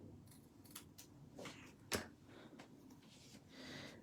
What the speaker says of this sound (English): And then I can cut out the ends